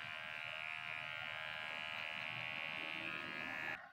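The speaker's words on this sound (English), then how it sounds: "So I'm going to be using first my puppy's shaver" A small electric pet hair clipper buzzes steadily as it shaves off a man's mustache, a close, continuous hum that cuts off abruptly at the end.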